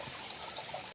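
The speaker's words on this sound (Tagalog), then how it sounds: "Ito siguro may ilog dito na maliit." Small creek trickling through a cave area among rock formations along a river, a faint, steady wash of running water with no speech.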